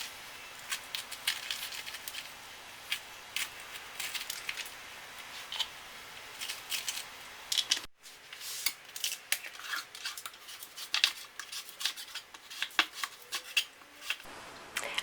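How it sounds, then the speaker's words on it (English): A kitchen knife slices and chops butternut squash on a cutting board, a steady series of crisp cuts and scrapes, close and fairly quiet, with a short break midway. "I've cut the squash into slices like this, and then I just take the skin off with a knife and cut them into chunks."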